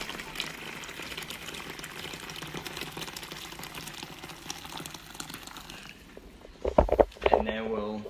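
Hot water poured into a big tub for making Vietnamese pho, a steady gushing liquid hiss that runs for several seconds before fading, followed by a few sharp splashes and clatters at the end.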